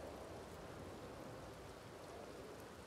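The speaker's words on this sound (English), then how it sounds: "The rain is getting to me." Steady rain falling, a continuous soft hiss of even intensity, faint and without voices.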